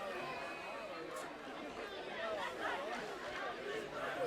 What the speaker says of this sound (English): I hear the Manalapan fans over there in their neon doing some cheering.